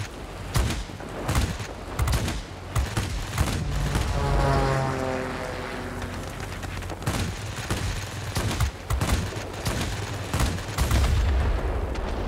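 Heavy 30mm cannon fire from a World of Warplanes fighter aircraft booms in long, rapid bursts over a steady engine drone. It is loud and close, with brief pauses between volleys.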